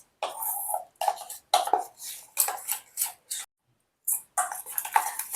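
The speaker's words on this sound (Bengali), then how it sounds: "সব দিয়ে এই মিশ্রণটা আরেকবার ভালো করে দইয়ের সঙ্গে মিশিয়ে নেব" A spoon stirs red chili powder, Kashmiri chili powder and other spices into yogurt in a bowl for a pabda fish curry, making close scraping, clinking bursts broken by short pauses.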